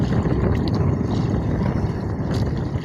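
Constant rushing wash of water and wind buffets a small fishing boat on big waves, a steady loud roar with no voices.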